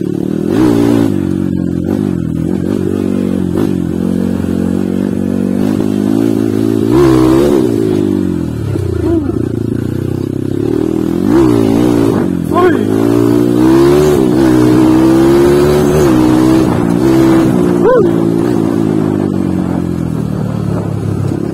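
A Kawasaki KLX 140RF dirt bike with a 170cc, 63mm bore-up on stock stroke and valves revs loudly and close by, its engine note rising and falling through repeated throttle blips.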